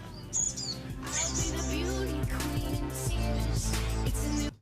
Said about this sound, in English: we've made our way into the songbird aviary